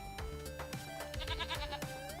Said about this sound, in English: I've got 50 goats.